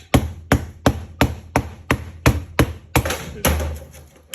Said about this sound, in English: Just tapping it down with the rolling pin,